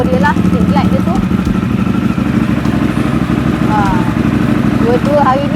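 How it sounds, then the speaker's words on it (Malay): A Harley-Davidson Street Glide motorcycle engine rumbles steadily at close range with a low, loping idle, while birds chirp faintly in the background. "So Abang Zaz dia dengan motor dia lah, street glide dia tu."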